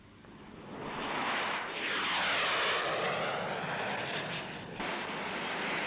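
A MiG-21 fighter jet flies past with a loud, broad roar that swells, holds steady for several seconds and then eases slightly, with no voices over it.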